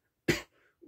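A single short, sharp cough from one person, close and fairly loud, followed by quiet with a faint breath or start of speech at the end.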